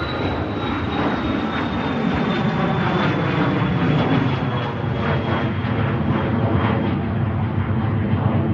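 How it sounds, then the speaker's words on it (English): A Cessna light aircraft at Manchester Airport drones steadily with a loud, broad engine roar and a faint high whine that slowly falls, with no talk. "Here goes the Cessna."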